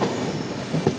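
Aboard the Trivandrum–Hubballi superfast express rolling into Ernakulam Town station, a steady low rumble of the moving carriage carries a couple of wheel knocks near the end, no speech.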